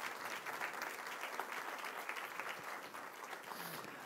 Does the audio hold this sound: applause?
yes